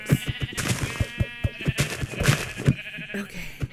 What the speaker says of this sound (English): There's a sheep.